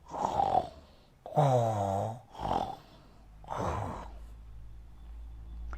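A voice mimics snoring: four slow, drawn-out snores with breathy exhales in between, close and fairly loud.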